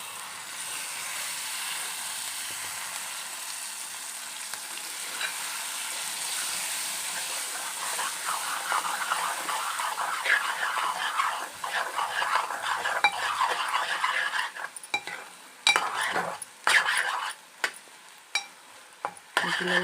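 Egg bhurji made from three eggs being stirred in a pan after cooking under a lid, a soft continuous sizzle with scraping utensil strokes that grow busier and more clattery toward the end, with no talking.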